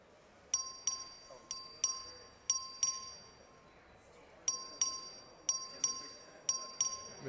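A voting bell rings in the Texas House chamber, striking in quick bright pairs of metallic dings, about a dozen strokes in regular rhythm, loud over a faint murmur of the room.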